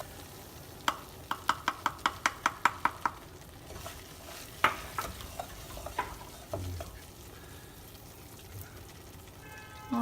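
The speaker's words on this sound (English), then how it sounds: "have a cup and a half of flour here that we're going to add slowly" Flour stirred into hot oil in a pan for halwa, a rapid burst of regular scraping clicks from a spoon followed by scattered stirs and a soft sizzle, close and moderately loud with no talking.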